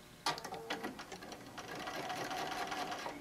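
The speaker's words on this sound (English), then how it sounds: "And then we're going to sew down the other side." A sewing machine stitching down the side of a fabric wine bottle bag. It starts with a few short stuttering bursts, then runs as a fairly quiet continuous whirring stitch.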